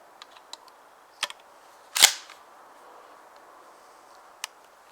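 A single sharp rifle shot cracks out close by in a snowy field during a recoil pad test, with a few faint clicks of handling before and after.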